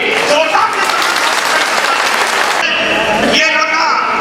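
Loud, sustained applause from an audience at a district-level community gathering, dense clapping filling the whole span with a voice speaking over it.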